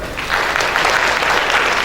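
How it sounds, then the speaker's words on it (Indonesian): An audience claps during a speech at the ICCF event at MCC in Kota Malang, a dense burst of applause that swells quickly and holds steady for a couple of seconds. "Tepuk tangan"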